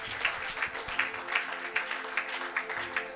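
A Christian congregation applauds for Jesus during a church service, steady overlapping claps spreading across the room at moderate volume for a few seconds, with no voices over them.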